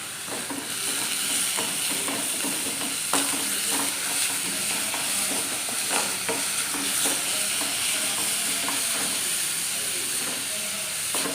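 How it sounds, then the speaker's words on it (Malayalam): Chopped onion sautéing with a little salt in a pan, for a bakery-style egg puffs filling: a steady, loud frying sizzle with soft scraping stirs throughout, alone with no talking. "നമ്മുടെ ഉള്ളി നല്ലപോലെ ഒന്ന് വഴന്ന് വന്നിട്ടുണ്ട്"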